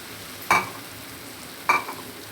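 Washed poha being stirred in a pan, two distinct scraping strokes about a second apart, fairly close and moderately loud over a quiet background, with no talking.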